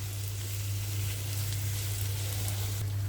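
Taki (lati) fish fry and get stirred in oil with local onion and garlic, giving a loud, continuous close-up sizzle over a steady low hum, with no talking.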